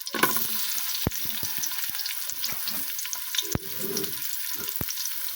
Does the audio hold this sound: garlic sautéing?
yes